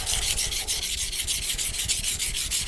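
A steel knife blade is rubbed back and forth on a Nano Hone 400 grit ceramic whetstone, producing a continuous, fairly quiet rasping scrape with steady repeated strokes and no talk.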